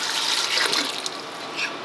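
Water poured into a pot of celery soup with potato and chicken stock, a steady splashing stream heard up close throughout.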